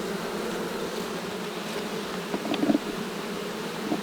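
Honeybees buzz steadily around an open hive during a beekeeping inspection, forming a continuous close drone with a few louder passes near the listener and no talking.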